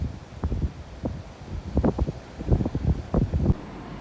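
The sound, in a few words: wind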